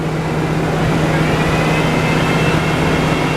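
A Buick engine with a restricted exhaust revving above 2,500 RPM, a steady droning hum with a strong low tone held throughout and a faint rising whine, loud and continuous without talk.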